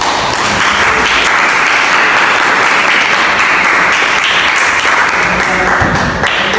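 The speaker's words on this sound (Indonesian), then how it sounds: "Beri aplaus untuk kelompok 3." Students in a Grade 12 high-school chemistry classroom in Riau applaud a student group, with loud, continuous, close clapping that fills the room throughout.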